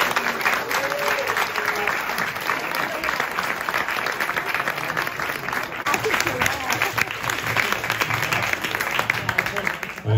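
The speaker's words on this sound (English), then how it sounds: "give them another round of applause" Steady, dense applause from an audience at a Coney Island film festival in Brooklyn as filmmakers join the host on stage, continuous clapping filling the room with some crowd noise mixed in.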